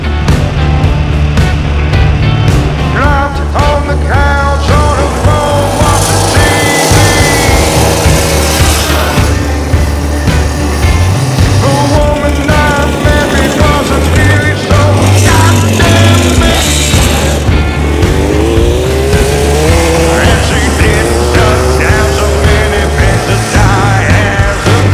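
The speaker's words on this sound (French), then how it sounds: "rouler cette vieille Suzuki-là sur des routes non pavées" A restored 1966 Suzuki T-20 motorcycle engine runs steadily throughout on unpaved roads, its pitch rising and falling as it accelerates and shifts, loud and close, with no talking.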